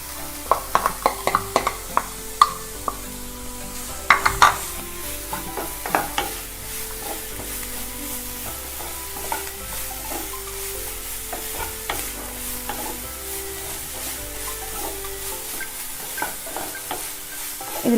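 Capsicum stir-fried in a pan for a chicken sandwich filling, with steady sizzling and repeated sharp spatula scrapes and knocks, loud and close, and no one speaking.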